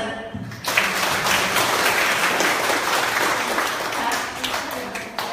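Applause from the audience at a members' gathering in Muar, Johor. It breaks out after a brief quiet start and holds as a thick, even clatter of many hands to the end, with a voice faintly underneath.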